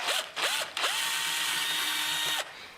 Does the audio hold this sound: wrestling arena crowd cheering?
no